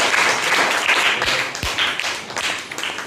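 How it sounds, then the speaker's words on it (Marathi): Students applaud a classroom display of Earth models, giving a dense, continuous burst of hand clapping from a group that stays steady and loud throughout. "टाळ्या वाजवतो."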